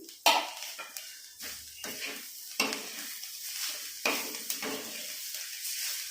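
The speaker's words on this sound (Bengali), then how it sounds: "আমি এবার ধনা পাতাটা দিয়ে একটু নেড়ে চড়ে নামিয়ে দিচ্ছি।" Moghlai paratha sizzles in hot oil as coriander leaves are stirred in, with a steady frying hiss broken by repeated sharp scraping and clinking of a spatula against the pan, close and fairly loud.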